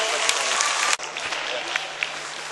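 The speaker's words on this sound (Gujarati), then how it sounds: "તાળીઓથી વધાવી દઈશું આપણે।" An audience at a school function breaks into applause, a dense, steady clatter of many hands clapping throughout, with a brief dip midway before it resumes.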